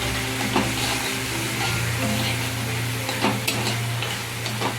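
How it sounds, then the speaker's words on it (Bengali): Spice masala with turmeric and salt, loosened with a little water, sizzles steadily in a pan for egg curry while being stirred, with occasional scraping clicks over the continuous frying hiss, close and alone with no voices. "মশলাটাকে একটু জল দিয়ে ভালো করে কষিয়ে নেব।"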